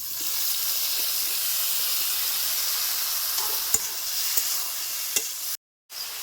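Pineapple pieces sizzle and hiss steadily in a hot pan with fried cashews and raisins. A few sharp pops and clicks of stirring break through, and the sound cuts out briefly near the end.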